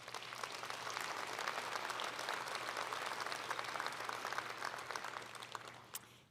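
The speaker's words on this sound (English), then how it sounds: "Please give yourselves a big round of applause" A roomful of attendees at the AZBio Awards in Arizona applauding themselves; dense, sustained clapping from a large crowd, even and continuous for several seconds before tapering slightly at the end.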